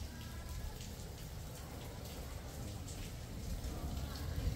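Rain falls outside a canteen as a soft, steady, faint patter that grows slightly heavier toward the end.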